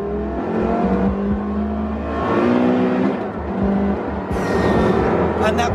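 Inside a Porsche Carrera GT, the engine behind the seats hums and revs continuously, with mechanical chain and valve chatter layered over the rising and falling drone, close and prominent.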